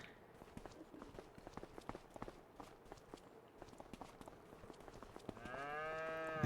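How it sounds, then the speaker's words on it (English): Cattle mooing in Farming Simulator 25 on a Texas plains farm map, with shuffling hoof steps and clattering through most of the clip before a loud, sustained moo swells near the end. "The cows show up as little mobile boxes."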